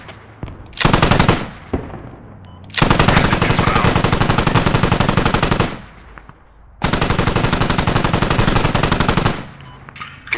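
Automatic gunfire in the military shooter game Squad: rapid sustained bursts separated by short pauses, loud and close, with a few single shots at the start and no talking.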